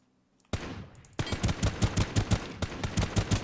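Video game gunfire with the weapon set to single fire: an opening blast, then a quick, steady run of sharp, loud individual shots, with no talking.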